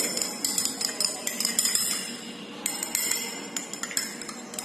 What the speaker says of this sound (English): I am adding in first beaker number A, only few grams of copper sulfate, and stir it properly